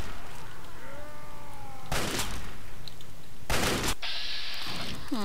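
Gunfire in the video game Fallout 3, with loud bursts of shots in two heavy volleys and a ringing tone between them, close and dense against a constant background bed.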